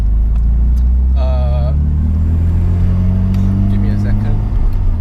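Mazda RX-7 FD3S rotary engine droning loudly and continuously close by, its pitch rising gradually, with a brief voice-like tone early on.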